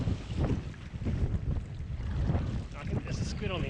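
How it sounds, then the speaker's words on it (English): Wind gusts across open water as a kayaker paddles back in, a rough buffeting rush with faint water splashes and muffled sounds beneath. "It's getting a bit windy"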